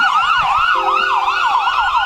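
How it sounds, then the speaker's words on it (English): Ambulance sirens wail loudly and close at a 4th of July parade in Park River, a rapid warbling yelp cycling up and down, with a steady horn tone joining partway through. "they always like to let everybody know they're coming through with the sirens"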